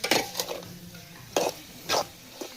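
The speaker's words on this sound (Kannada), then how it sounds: "ಇದನ್ನೆಲ್ಲ ಚೆನ್ನಾಗಿ ಫ್ರೈ ಮಾಡಬೇಕು." Chicken frying in a pan over a village wood-fire stove, stirred with a utensil that scrapes and clinks against the metal in a few distinct bursts over a faint background sizzle.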